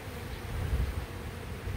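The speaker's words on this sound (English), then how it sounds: "Now they hover with their legs dangling and their wings flitting." Hovering bees with dangling legs give a faint, continuous buzz outdoors in a natural habitat, steady throughout with no speech.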